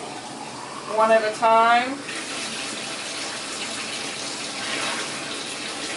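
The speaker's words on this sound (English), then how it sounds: "I turn my hot water on high and get it as hot as it can be." Hot water running on high from a kitchen tap while canning jars are heated, a steady close splashing rush that continues throughout under a short burst of speech near the start.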